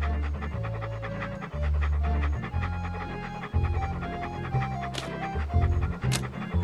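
Walt, the dog in the Monkey Island 2 video game, panting in a steady rhythm over looping game music with no one speaking.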